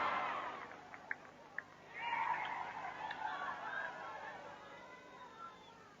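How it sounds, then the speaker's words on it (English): Crowd at the 1987 World Netball Championships final, a distant roar swelling into cheering and chatter across the arena, with brief whistles or calls, under quiet commentary. "just listen to that crowd"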